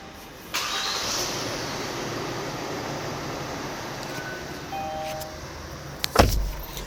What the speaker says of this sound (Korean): 일단은 시동 소리에 좀 집중을 해주세요